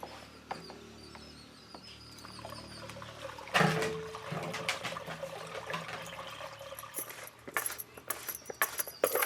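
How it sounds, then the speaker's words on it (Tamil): Water poured into a sprayer tank outdoors, a trickling splash that starts softly, then swells into a steady rushing pour with irregular gurgles and clinks. "இப்போ நம்ம தண்ணி எடுத்து ஊற்றிக்கலாம்."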